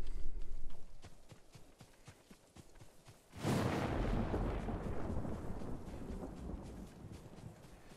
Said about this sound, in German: Warum ist denn schon wieder Gewitter?